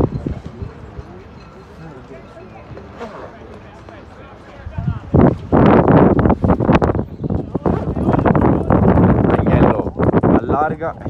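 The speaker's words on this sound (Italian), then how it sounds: "Qui soffia ancora più forte il vento. Scusate se non sentite in maniera perfetta." Strong wind gusting into the microphone at an amateur football match between Cus Palermo and Polisportiva Gonzaga, loud broadband buffeting that swells sharply after a quieter start, with a commentator talking throughout.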